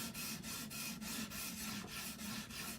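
A folding hunting knife is sharpened on a 250 grit diamond matrix stone in an Edge Pro system, giving a steady close rasping scrape in even back-and-forth strokes about three per second, with no talking.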